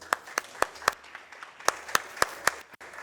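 Audience applause at a Brazilian business marketing event: scattered, sharp individual claps ringing out at an irregular rhythm, fairly close and moderately loud.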